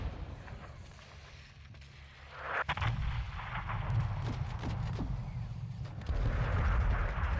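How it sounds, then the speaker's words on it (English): Combat in Call of Duty: Modern Warfare 2 (2022) with RPG blasts and gunfire, deep booming explosions and scattered shots building into a sustained rumbling barrage, fairly quiet overall with no clear talk. "Dude, you guys are getting covered in RPGs."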